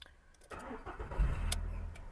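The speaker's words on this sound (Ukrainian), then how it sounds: "Давайте ми запустимо мотор." A 2010 Skoda Fabia car engine cranks briefly and starts, then settles into a steady low idle, close by and fairly loud.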